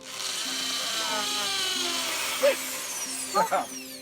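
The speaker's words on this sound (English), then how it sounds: "Drill a hole." A power drill whirs steadily at close range, its pitch shifting slightly as it bores a hole into a log, while a person speaks briefly near the end.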